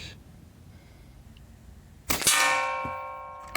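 A single sharp air rifle shot from an Artemis M16A PCP rifle, firing 14.35-grain pellets, followed by a ringing metallic clang as the pellet strikes the target. The clang is loud and fades slowly against faint background hiss.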